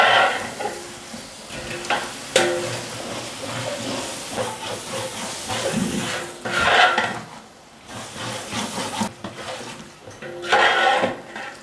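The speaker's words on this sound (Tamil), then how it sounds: "இப்போதைக்கு நல்லா வதங்கியிருக்கும், நம்ம கிண்டி விடலாம்." Tomatoes frying in a pan for a mild chicken biryani are stirred, with loud scraping strokes in uneven bursts over a continuous hissing sizzle, close by.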